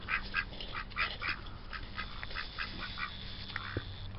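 Ducks quack repeatedly at close range while eating pumpkin seeds, a run of loud nasal calls in irregular bursts over a steady outdoor background.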